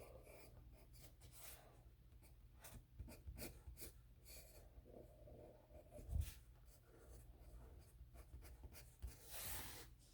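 A color pencil scratches over paper in quiet, irregular strokes, with soft scraping bursts and short pauses as the drawing moves along, recorded close up with no speech.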